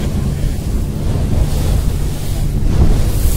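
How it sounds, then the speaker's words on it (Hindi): Water sloshes and rushes steadily against a moving cruise boat on Georgian Bay, with heavy wind buffeting the microphone and a low engine rumble underneath. "ये लहरें, देखिए लहरें।"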